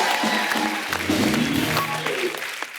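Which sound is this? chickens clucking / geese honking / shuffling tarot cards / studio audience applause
studio audience applause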